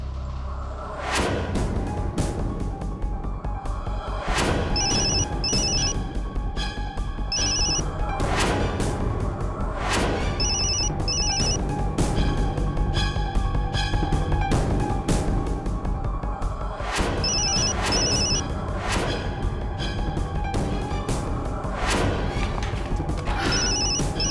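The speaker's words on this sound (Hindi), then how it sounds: "उर्वशी फोन क्यों नहीं उठा रही?" A telephone rings on and on without being picked up, its repeated bright trills cutting through loud dramatic music and crashing sound effects in a Hindi TV serial scene.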